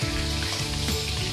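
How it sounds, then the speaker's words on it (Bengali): Ari fish fry in hot oil, spitting and popping in a dense, rain-like crackle that runs on without a pause. "একটু সাবধানে মাছগুলো ভাজতে হবে, কারণ আর মাছ খুব ফোটে।"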